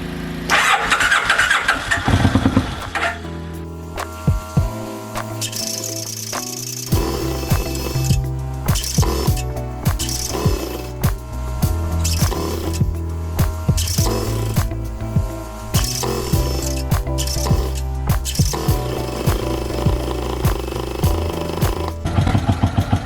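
A 1996 Kawasaki Vulcan motorcycle engine cranks and catches, then runs with uneven revving and several stumbles, loud and close, with no voices.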